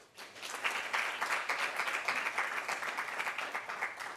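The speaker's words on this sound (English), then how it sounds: "so let's give a clap" Steady applause from a crowd, many hands clapping densely and evenly for several seconds without a break.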